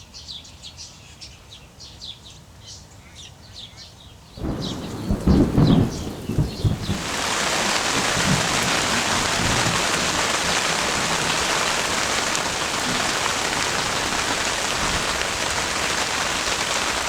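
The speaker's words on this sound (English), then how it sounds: "Storm was definitely moving in" Thunderstorm rolling in over a summer fishing spot: a deep thunder rumble swells, then steady heavy rain takes over as a loud, dense hiss for the rest of the stretch, with faint bird calls early on.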